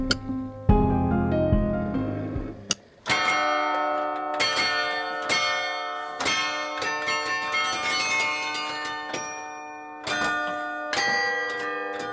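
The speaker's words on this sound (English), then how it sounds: "The chimes are played weekly by the city carillonneur." Carillon bells chime from a wooden, lead-clad tower above a market square, struck in a steady melodic sequence with long ringing overtones, full and fairly close, with no voices.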